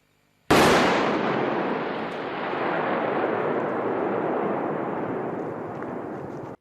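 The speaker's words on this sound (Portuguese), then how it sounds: "Vejamos no vídeo a seguir o que é uma explosão de 5 quilos de pólvora." A sudden, loud blast from 5 kilograms of gunpowder bursts after half a second of silence, then a long crackling roar slowly fades over several seconds.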